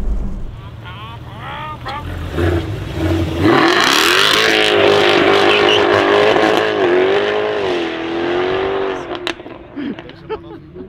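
A Jaguar F-Type V8 S with ESP switched off accelerates hard on a wet road, its loud V8 roar rising in pitch through the gears up close, with voices talking before and after.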